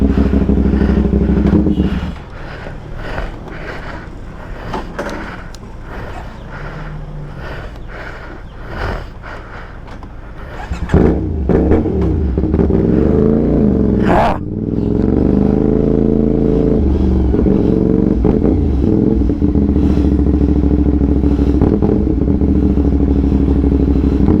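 A CFMoto 450SR motorcycle ridden on the road toward Bicol, its engine idling and rumbling, then revving and pulling away with rising and falling gear changes, close and loud, with wind noise and clatter as it cruises.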